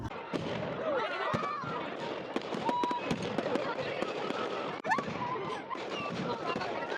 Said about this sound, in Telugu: క్రాకర్ షో అయితే చాలా బాగా జరిగింది.